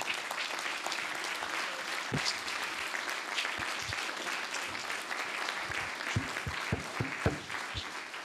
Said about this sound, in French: je crois qu'on va prendre maintenant le temps de t'applaudir et de te remercier.